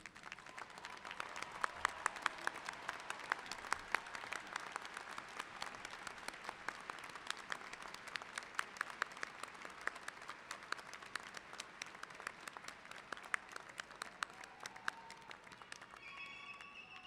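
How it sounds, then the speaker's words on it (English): Commencement audience at University of Detroit Mercy's 2014 McNichols Campus ceremony gives the graduating class a sustained round of applause: dense, steady clapping from a large crowd that fills the hall without letup. "join in a round of applause to the class of 2014"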